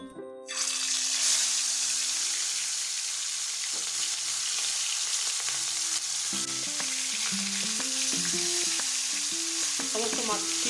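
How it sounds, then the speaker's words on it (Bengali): Pieces of rohu fish coated in salt and turmeric fry in hot oil, giving a loud, steady sizzle from start to finish, with intermittent tonal kitchen clatter in the second half and no speech. "এখন এগুলোকে আমরা ভালোভাবে লাল লাল করে ভাজা করে নেব"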